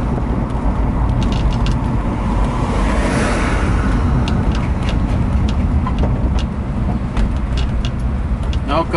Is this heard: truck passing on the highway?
yes